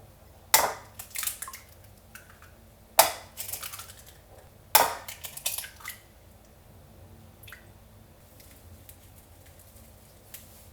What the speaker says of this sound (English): First we're going to crack open the eggs in a bowl and then add the mirin and salt.